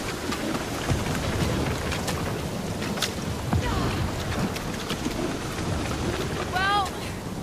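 Heavy rain and rumbling thunder from a storm in the Guardians of the Galaxy video game, a dense continuous downpour with scattered cracks and booms, plus a brief high warbling call near the end.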